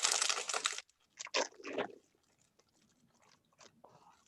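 Crunchy oven-baked spicy chicken chips being chewed close up, with crisp bursts of crunching that start loud and then thin into quieter, scattered bites and pauses.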